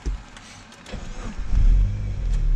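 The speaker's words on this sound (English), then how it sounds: "Restart the car." A manual car's engine restarts during a hill-start driving lesson, rising from a low rumble into a steady, louder idle after about a second and a half, close by.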